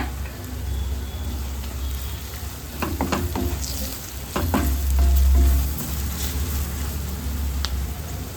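Green chillies frying in oil for rajma curry, a steady crackling sizzle with a low rumbling hum beneath and a few scattered stirring clicks and scrapes in the middle.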